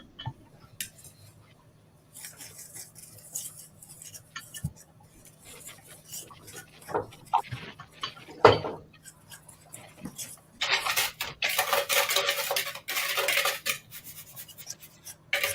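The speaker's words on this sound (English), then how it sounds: "just give it a quick whisk so your sugar and your custard powder mix together" Custard powder and sugar whisked together in a bowl for orange custard squares, scattered light ticks and scrapes building into a dense, fast whisking rattle near the end.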